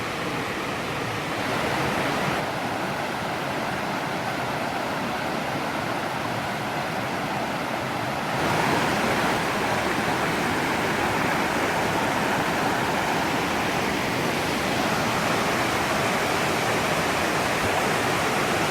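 A waterfall on the Middle Prong in Pisgah National Forest, North Carolina, roars in a steady, dense rush of falling water, loud and close, with no voices.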